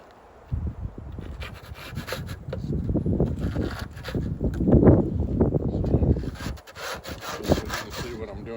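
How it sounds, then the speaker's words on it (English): Rough, repeated scraping strokes as dead bees are scraped off a wooden beehive frame, close and fairly loud, with brief pauses between bursts. "I'm just scraping off all these dead bees."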